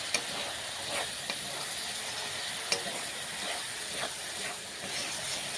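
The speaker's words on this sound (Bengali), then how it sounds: "এবার দিয়ে দেবো টমেটো বাটা" Tomato paste goes into spices frying in a pan for a Bengali tadka, giving a steady close sizzle and hiss with occasional stirring scrapes throughout.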